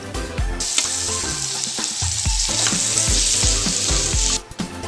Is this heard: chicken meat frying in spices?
yes